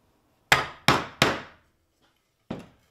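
A wooden mortise is cut by striking a chisel for a garden bench: three sharp, quick woody knocks in a row, a pause, then one softer knock, each ringing briefly before fading.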